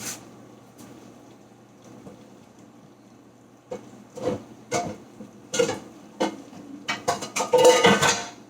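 Metal cookware clanks and scrapes, quiet at first, then several louder knocks and rattles of a heavy cast iron pan being moved near the end.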